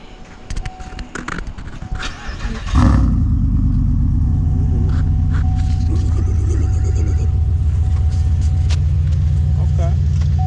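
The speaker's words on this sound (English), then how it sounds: "So we about to go ahead and get a little ride along in the GXP" A 2008 Pontiac Grand Prix GXP engine starts with a sudden deep rumble, then holds a loud, steady idle close by while people chat inside the car.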